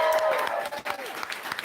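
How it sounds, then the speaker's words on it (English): Audience applause at a town hall gathering in a brewery in Manchester, New Hampshire, a brief burst of clapping and crowd noise with a voice rising over it. "Let's give them a round of applause."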